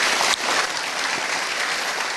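An audience at a youth festival in Jakarta applauds the speakers, dense close clapping that peaks at the start, then settles into steady applause.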